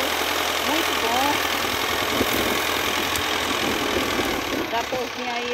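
Small farm tractor engine running steadily at close range, a rough mid-pitched idle with a knocking chug, under talk throughout.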